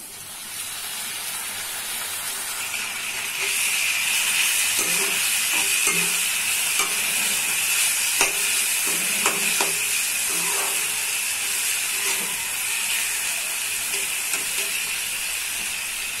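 Tomatoes go into sizzling onions and capsicum frying in a pan for a prawn curry, and a loud steady hiss runs throughout with scattered clicks and stirring knocks.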